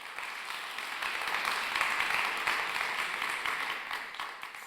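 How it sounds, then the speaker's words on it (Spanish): A church congregation claps and applauds in a steady, diffuse wash of hand claps that fills the room, moderately distant and without speech. "Dele palmas de regocijo a papá."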